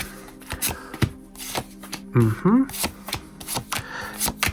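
Tarot cards are shuffled and laid down on a table during a psychic reading, with close, crisp snaps and riffles, a short shuffle burst and sharp taps as cards land, while a voice speaks over them.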